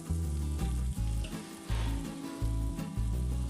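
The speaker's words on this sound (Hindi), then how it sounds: "तो इस तरह से आपने इसको तड़का लगाना है।" Loud sizzling of spices hitting hot oil, a steady crackling hiss that surges in bursts, with some stirring and no talking.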